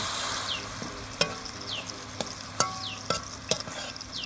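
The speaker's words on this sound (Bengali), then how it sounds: "এখন আমি মাছ দিয়ে নিচ্ছি। মাছটাকে মশলার মধ্যে আমি কষিয়ে নেব।" Stinging catfish pieces fry in a spice masala in a pan, a low sizzle punctuated by sharp, regular scrapes and knocks of a stirring spatula.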